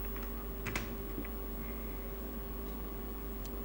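Keystrokes on a computer keyboard while entering a rectangle command in AutoCAD, a few soft scattered taps over a steady hum of background noise.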